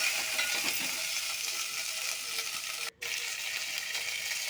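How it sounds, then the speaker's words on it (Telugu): Ajwain (vaamu) leaves frying in a little oil in a bowl give a steady, close, even sizzle throughout, broken by one very short dip before the crackle resumes. "మంచిగా ఫ్రై చేసుకోవాలి."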